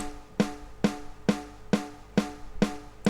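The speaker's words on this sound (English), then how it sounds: "The sample snare that I've used, they sound something like this." Seven sharp snare hits at an even, steady pace, each a crisp crack with a short ringing tail, heard alone.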